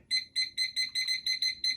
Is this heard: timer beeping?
yes